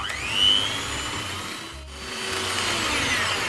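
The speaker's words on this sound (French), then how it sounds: "Et là, on repart avec notre batteur. On va bien remuer, bien mélanger tout ça une fois de plus." An electric hand mixer whirs steadily while beating cake batter with melted butter, a loud close motor whine that dips briefly midway as the beaters shift, then resumes.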